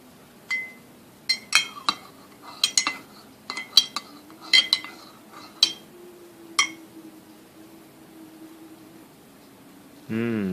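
A metal spoon stirs and clinks against a dish while a waxy brownie batter made with beeswax is mixed, giving a run of sharp, irregular taps and rattles nearby. A final scraping swirl comes at the end, and there is no speech.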